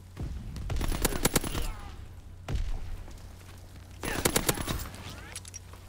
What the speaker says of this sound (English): this gun, the EMP44 and the Blyskaviska, all have the same gun sound with, like, very minor changes to them